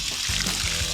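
Water pouring and trickling over rock at a natural waterfall on a hot day, a steady close splashing flow with a brief murmur of voices underneath.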